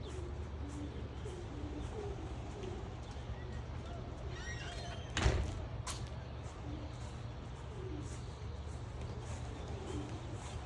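Racing pigeons in a loft coo softly and repeatedly in the background, a steady low murmur running throughout, with a brief clatter midway and someone talking over them.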